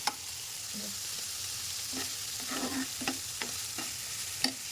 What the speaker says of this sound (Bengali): মশলা আর শুটকিটা আমার অনেক ভালোভাবে কষানো হয়ে গেছে।